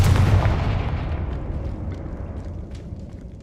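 A Confringo fire spell detonates in Hogwarts Legacy on PS5, one heavy booming blast with a deep low rumble that decays over a few seconds, alone without talk.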